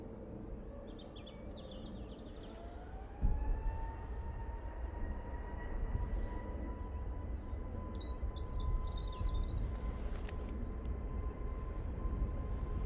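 An EasyJet airliner on its takeoff roll, a steady distant engine roar with a rising whine building over several seconds, with birds chirping faintly nearby.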